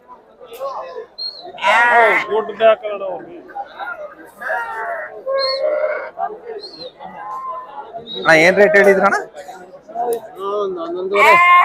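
Sheep and goats bleating at a busy livestock market in Sira, with many overlapping calls near and far and loud bursts amid steady crowd chatter, while people talk throughout.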